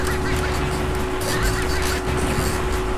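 Birds honking in the video game Spyro 3: Year of the Dragon, loud goose-like honks repeating over busy game sound and a steady tone, with no talk.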